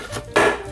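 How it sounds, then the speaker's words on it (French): A single sharp knife chop lands on a cutting board while garlic is cut into small pieces; it is brief and close, with quiet room tone around it. "on va faire pareil avec l'ail, donc on va le couper en petits morceaux"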